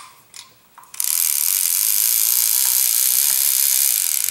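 After a few soft handling clicks, the spool of an International big-game fishing reel spins freely with a rapid, continuous ratchet buzz from the clicker, loud and close, running steadily for over three seconds.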